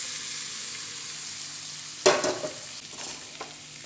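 Koorka, Chinese potato, drops into a hot pan and stir-fries with spice powders: a steady background sizzle jumps into a loud burst of crackling, followed by a few scraping stirs, nearby and without speech.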